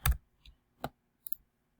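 A computer keyboard gets a few sparse, crisp key clicks while a search term is typed, with quiet gaps between them.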